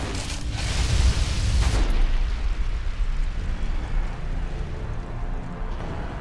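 Frag grenade exploding in Fallout: New Vegas: a loud, close blast that booms for about two seconds, then decays into a lingering low rumble.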